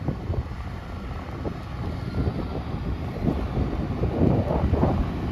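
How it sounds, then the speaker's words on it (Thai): Strong wind buffets the microphone with a steady low roar and gusts at an open pond excavation site where an excavator digs, constant and loud with no speech. "โอ้ยลมขึ้นแรงใช่เนาะ"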